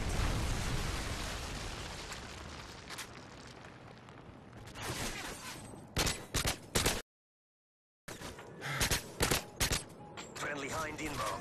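A Predator missile strike in Call of Duty Modern Warfare 3 hits with heavy booming blasts and rumbling debris, followed by several sharp explosive bursts, a sudden cut to silence, then more loud crackling impacts.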